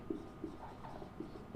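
Chalk or marker taps and scratches on a classroom board in several short, quiet strokes, each stroke a small soft tick within a faint, steady room background.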